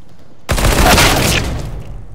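A sudden loud burst of Counter-Strike gunfire with a grenade blast starts half a second in, then a dense roar that stays strong and slowly fades to a rumbling tail.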